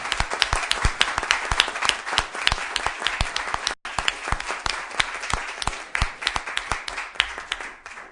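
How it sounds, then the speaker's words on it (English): A council meeting crowd applauding steadily, dense overlapping claps that briefly dip in the middle and then continue with scattered sharper claps toward the end. "a round of applause for good hard"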